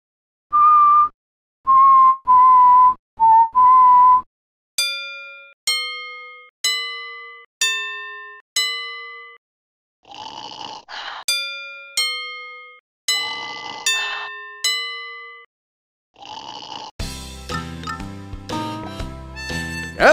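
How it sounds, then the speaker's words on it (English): Bells hung on a donkey in the Scooby-Doo video game Showdown in Ghost Town ring out one by one as a melody: a few flat buzzy tones, then bright clear chimes of varying pitch, ending in a dense jangling cluster. "Use the bells on the donkey. If we play the bells in the right order, I'm sure he'll wake up."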